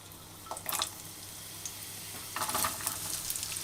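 Onion drops into a hot pan and fries with a soft, constant sizzle, broken by a couple of brief bursts of stirring and crackling, fairly quiet and close.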